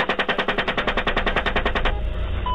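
A machine gun fires one rapid, steady burst of about twenty shots, loud and close, in a horror short film. The burst then cuts off into a rumbling tail with a faint beep.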